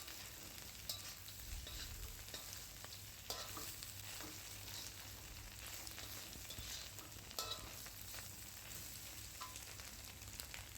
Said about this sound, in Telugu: పసుపు వేసుకుని కాసేపు వేయించేసుకుందాం